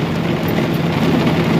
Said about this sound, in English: I think it's raining a little bit here in Florida.